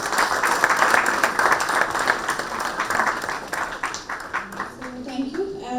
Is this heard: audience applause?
yes